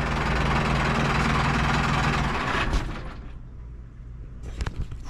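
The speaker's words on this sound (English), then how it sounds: "I gotta turn the idle up a little bit." A diesel truck engine idling nearby, a steady low rumble with heavy vibration that fades and drops quieter partway through, then picks up briefly at the end.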